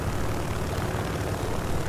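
Propeller aircraft engine in the War Thunder combat flight game, a steady loud droning roar with broadband noise that holds without pause throughout.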